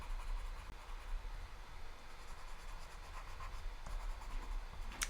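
Soft, faint scratchy strokes of coloring in a flamingo on a handmade card, a continuous light rubbing with quiet background noise and no talking.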